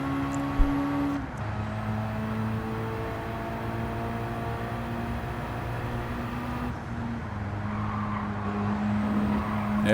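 Daihatsu race car lapping the Nürburgring in Gran Turismo 7, its engine holding a steady droning tone with a few gear-change pitch shifts, heard alone at moderate level.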